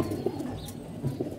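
Sick pigeons coo softly in a loft, giving low, muffled, throaty calls. The cooing is faint and steady, with a hum of room noise behind it.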